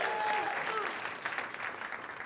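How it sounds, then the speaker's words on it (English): Audience applause for a presenter at a startup event, a steady wash of clapping that stays loud and continuous throughout, with no talking over it. "Can we give her another round of applause?"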